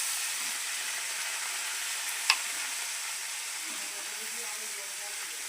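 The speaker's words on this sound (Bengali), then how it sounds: "এবার আমি এতে গোবিন্দভোগ চালটা দিয়ে দেবো। চালটা দিয়ে আমি থোড়টা দিয়ে দিলাম।" Gobindobhog rice and chopped banana stem hit a pan of sizzling cumin, giving a steady, even frying hiss throughout with one brief sharp click midway.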